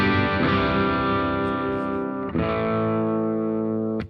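Clean electric guitar through a Fender Bass Breaker 15 amp, two sustained chords ringing out one after the other, bright and even with a slight edge, the second cut off abruptly at the end.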